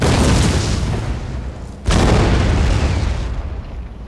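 Heavy artillery fire on a Napoleonic battlefield in Napoleon Total War, a continuous loud rumble of booming cannon blasts with a brief lull before another sustained barrage.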